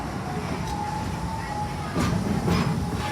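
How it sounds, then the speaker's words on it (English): Safari train at Busch Gardens Tampa rolls into its station with a steady low rumble, soft rhythmic clacks and squeaks, growing a little louder near the end. "Please remain seated until the train has come to a full and complete stop."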